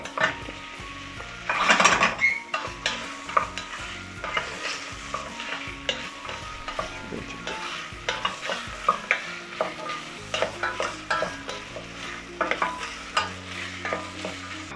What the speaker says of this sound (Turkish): Şimdi biraz karıştırıyoruz. Kavuruyoruz. Soğanları falan eritiyoruz güzelce.